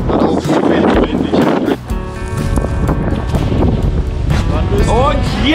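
Strong wind buffets the microphone outdoors in Scotland, a loud, rough rumble that gusts and eases throughout, with voices faintly mixed in.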